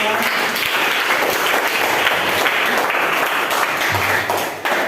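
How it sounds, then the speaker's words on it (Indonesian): A classroom group gives loud, dense, steady applause for presentation group five, keeping it up at full strength through the whole stretch. "Tepuk tangan dulu buat kelompok 5."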